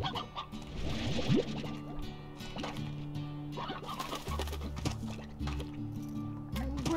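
Roosters cluck and call in the Slime Rancher video game, with repeated bird-like squawks over a steady backdrop of game sounds and gurgling liquid effects.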